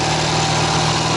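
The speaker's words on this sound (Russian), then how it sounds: "Я еду, вслушиваюсь в монотонную работу двигателя" A Ural motorcycle engine runs during a ride, a loud, steady, monotonous drone with a low, even pulse and no break.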